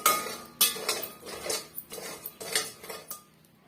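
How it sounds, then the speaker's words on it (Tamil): Dried fish roasting in a pan over medium heat, stirred with a metal utensil that scrapes and clinks against the pan in a steady run of close, sharp strokes, with no talking. "இந்த கருவாடும் மிதமான தீயில வச்சு நம்ம வறுத்து கொடுத்துக்கணுங்க"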